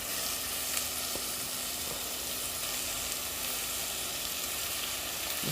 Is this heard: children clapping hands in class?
no